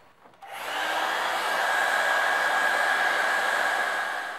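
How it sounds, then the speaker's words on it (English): A hairdryer switches on and blows with a steady, loud whooshing hum that holds constant until the end, heating shrink tubing on Dyneema rope. "I'm just going to use a hairdryer"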